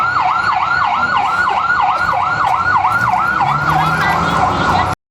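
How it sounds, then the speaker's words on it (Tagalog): Fire truck sirens wail in a fast, repeating up-and-down cycle, loud and close, over engine rumble at a neighborhood fire, cutting off abruptly near the end. "sobrang dami na yung mga fire truck dito na inaapula itong area na to"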